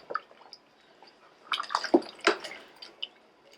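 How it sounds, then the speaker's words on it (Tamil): Water splashes and drips into a pot of chicken gravy in short, irregular bursts, close by with quiet gaps between. "நமக்கு எந்த அளவுக்கு குழம்பு வேணுமோ அந்த அளவுக்கு தண்ணி விட்டுட்டு"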